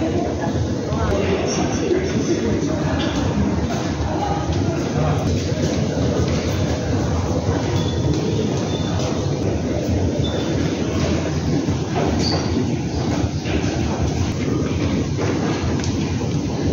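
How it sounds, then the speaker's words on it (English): Subway train at Anguk station in Seoul, a steady rumbling roar of rail cars with faint clickety-clack and occasional wheel squeal, continuous and fairly loud throughout, with people talking in the background. "So we are now at the Anguk subway station."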